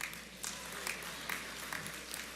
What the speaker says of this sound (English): I can ask for another round of applause for you